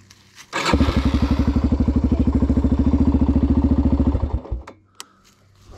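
A Yamaha Raptor 250 quad engine cranks, catches and runs at a fast, even putter for about four seconds nearby, then cuts out, leaving a faint click afterward.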